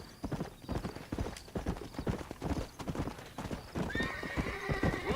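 Horse hooves clip-clopping in Red Dead Redemption, a steady close rhythm of hoofbeats throughout, with a horse whinnying toward the end.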